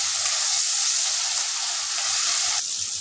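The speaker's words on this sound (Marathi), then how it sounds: "छान असं परतवून घ्यायचं आहे।" Steady sizzle of marinated eggs frying in masala, with a bright hiss throughout, close and constant, with faint stirring underneath and no voices.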